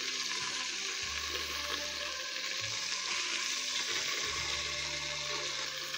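Meat sears in a pan with oil or lard for Znojmo sauce, giving a continuous close sizzle and crackle throughout with a few low thumps and no talking.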